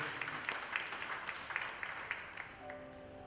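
A church congregation claps together for God, a fairly soft, scattered patter of hands in a worship hall that thins out toward the end as a sustained tone rises.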